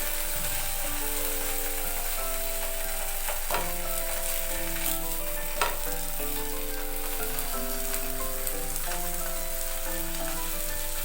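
A keto burger patty fries in a pan with a steady, continuous sizzle and a few sharp clinks of a utensil against the pan. A soft tonal melody plays throughout, and no one speaks.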